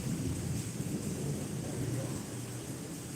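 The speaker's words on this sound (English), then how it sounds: "there's probably going to be a big flash and instant boom. So I feel like the storm is right here." Deep rumbling thunder from a storm directly overhead rolls steadily and loudly through the whole stretch, a sustained low boom with rain-like hiss above it and no speech.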